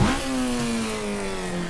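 A sim racing car engine over-revs on a heel-and-toe downshift while braking into a corner, a loud, sustained high-pitched whine with a brief spike at the start and a tone that slowly drops.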